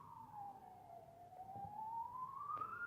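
A single ambulance siren wails from a distance, its pitch sliding down and then slowly back up, faint against quiet background noise.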